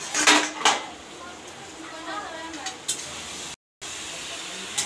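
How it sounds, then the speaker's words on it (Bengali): Home kitchen cooking with a few sharp clinks of pots and dishes at the start, then a steady steamy hiss with faint clatter, a brief dropout near the end before the hiss resumes. "এখন আমার বোন রান্না করছে"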